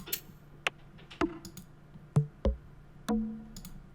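A synth percussion loop plays sparse, sharp electronic clicks and ticks with a few thumping low hits in an irregular pattern, fairly faint and with no voices.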